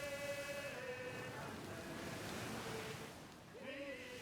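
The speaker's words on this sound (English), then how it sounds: "it's the ocean and it's big and empty like you would expect an ocean to be" Ocean waves wash steadily in Pillars of Eternity II: Deadfire, a constant, moderately loud surf that fills the clip under faint sustained musical tones.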